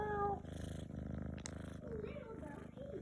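A cat purrs steadily while kneading, a continuous low rumbling drone held close to the microphone for several seconds, with a brief rustle partway through.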